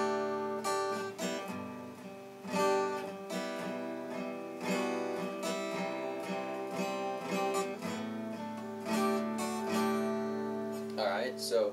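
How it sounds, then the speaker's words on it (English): Acoustic guitar strumming the chords of a song with mostly steady down strums and a single up strum closing each chord, ringing clearly and fairly loud on its own for the whole stretch. "most of these chords are played just with down strums, and then you throw in typically I think it's one up at the end of each of them"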